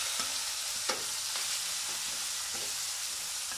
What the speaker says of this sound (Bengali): মাংসগুলোকে ওই তেলগুলোতে সুন্দর করে ভেজে নিয়ে নেবো ভালো করে